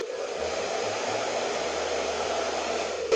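A hair dryer blows steadily on short hair, a loud continuous airy whoosh with a faint motor hum beneath, unbroken for the whole stretch and with no voices.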